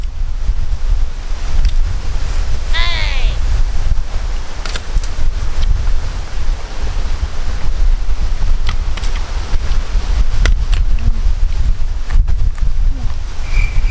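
Strong wind gusts buffet the microphone outdoors at a riverside shrimp-catching spot, a steady loud low roar that runs the whole time with brief clatters and faint distant sounds over it.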